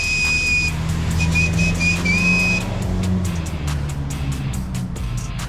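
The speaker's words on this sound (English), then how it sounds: "Okay, just wait for the cars." Cars on a road pass by a roadside spot, a steady engine and tyre rumble sweeping past with a few sharp clicks near the end, no talk.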